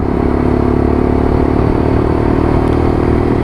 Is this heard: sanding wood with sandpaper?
no